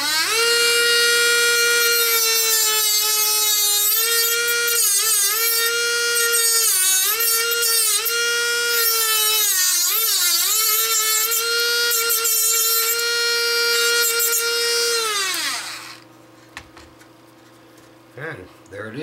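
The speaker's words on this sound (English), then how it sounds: "Take the Dremel tool and a fiberglass reinforced cutoff wheel." A Dremel tool with a fiberglass reinforced cutoff wheel spins and cuts while building a 6 meter delta loop antenna, a loud high-pitched whine wavering in pitch under load for about fifteen seconds before winding down.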